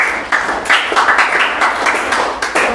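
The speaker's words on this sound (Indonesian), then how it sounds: "Tepuk tangan." Hand clapping from a classroom group after a student answers a maths question, a steady burst of many overlapping claps at close range, continuous and fairly loud with no talking.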